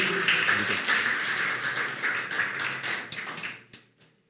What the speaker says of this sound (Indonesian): Tepuk tangan bagi Tuhan, haleluya